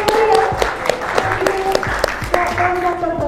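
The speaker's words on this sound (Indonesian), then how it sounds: "Berikan tepuk" Audience clapping at a school character-education project showcase on bullying, a steady burst of applause with sharp claps throughout, mixed with a voice speaking and tonal sounds.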